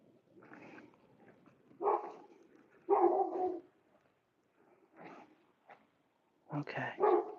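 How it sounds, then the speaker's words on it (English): A dog barking behind a garden fence, several short muffled barks in irregular bursts at a moderate distance, with a final louder double bark. "The dog will probably get quiet in a minute now that I am away from the fence."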